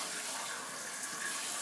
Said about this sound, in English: fill this back up with cold water